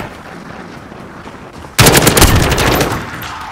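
In Call of Duty: Modern Warfare, a semi-automatic rifle opens up abruptly after a quiet stretch, a loud run of rapid, closely spaced shots with booming echoes that continue to the end.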